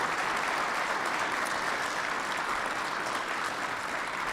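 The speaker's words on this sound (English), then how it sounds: "Maybe a big round of applause once again for the General." Attendees at a mayor's breakfast applauding a general, a steady, moderately loud roomful of clapping that carries evenly for several seconds.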